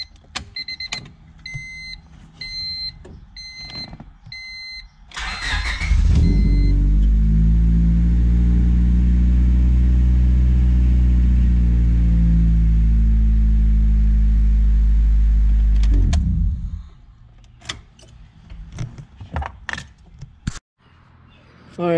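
A car engine cranks with the key and catches, then idles with a steady, loud low rumble for about ten seconds before shutting off; light clicks and quieter handling noises come before and after.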